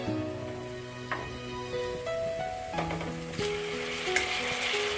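Garlic, shallots, basil and chopped tomato stir-fry in a pan with a loud, continuous sizzle, broken by scraping and clattering strokes of a spatula stirring the mixture, close up and with no talking.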